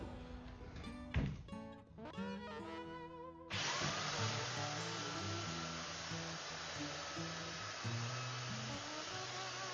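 A Makita M9400B belt sander switches on and runs steadily on hard wood, giving a loud continuous whine and roar after a few clunks and brief rising motor tones.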